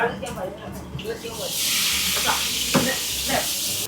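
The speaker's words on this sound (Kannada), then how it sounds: "ಮೊದಲು ಬಾಂಡ್ಲಿಗೆ ಎಣ್ಣೆಯನ್ನು ಹಾಕಿದ್ರು, ಅದಾದ್ಮೇಲೆ ಈಗ ಜೀರಿಗೆ ಸಾಸಿವೆ ಹಾಕಿದ್ದಾರೆ" Cumin and mustard seeds dropped into hot oil in a pan, giving a sudden steady loud hiss and crackle that persists, with spoken voices underneath at the start.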